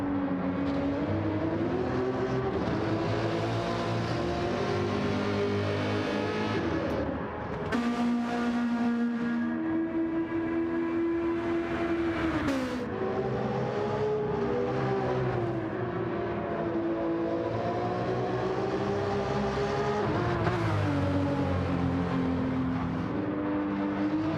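Race car engines roaring in a sim racing game at the Sardegna circuit, a sustained loud whine that climbs and drops through gear changes, with cars sweeping past one after another and no talking.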